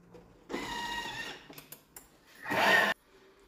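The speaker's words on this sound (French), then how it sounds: "Et on va mixer de nouveau 15 secondes vitesse 10." Food processor whirring loudly at top speed as it blends peanuts into a paste for peanut halwa, one steady burst of about two seconds followed by a short second whir, with no talking.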